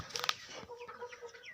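A rooster clucks close by over 1.6 seconds, with a burst of flapping wings and sharp calls at the start, then softer, scattered clucks.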